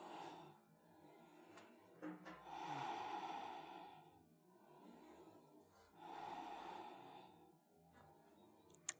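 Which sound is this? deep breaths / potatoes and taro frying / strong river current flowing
deep breaths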